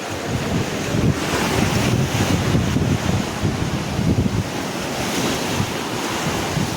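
Sea waves roll and wash continuously along Kasheli beach, a loud, steady roar of surf mixed with gusty wind buffeting the microphone, with no voices heard.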